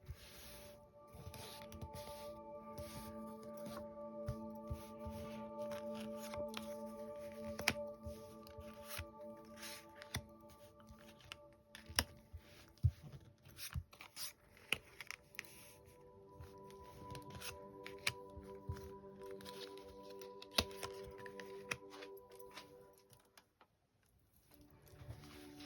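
Oracle cards being shuffled for a reading: soft, close papery riffles and slides with scattered taps, quiet and continuous over a faint steady background hum.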